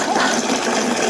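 Water pours from a pipe into drums on a village farm, a steady, dense rushing splash that stays even and fairly loud throughout.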